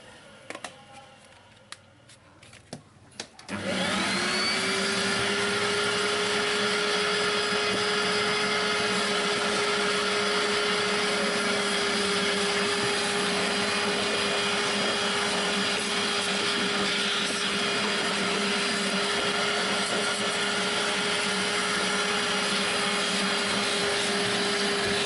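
Vacuum cleaner fitted with an attachment running steadily on a car's interior carpet, starting up after a few seconds of quiet handling noise, then a loud, continuous whine with a constant tone and no talk.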